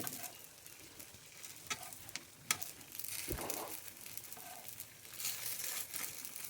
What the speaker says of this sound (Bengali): আর কিছুটা পাটিসাপটাও ভাজছি।